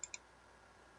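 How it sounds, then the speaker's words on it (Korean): Two quick, faint clicks of a computer mouse, close together near the start, followed by quiet room tone. "클릭"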